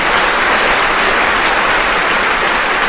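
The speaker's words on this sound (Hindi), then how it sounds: "तालियां बजा दीजिए एक बार।" Dense, continuous clapping from a large crowd at an award ceremony fills the whole stretch, loud and even without pause.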